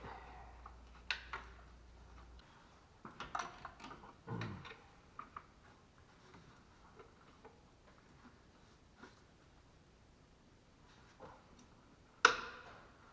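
A socket wrench works the battery-wire nut on the alternator of a 2004 Chevrolet Cavalier, giving faint, scattered ratcheting clicks and small metallic taps, with one sharper clank near the end.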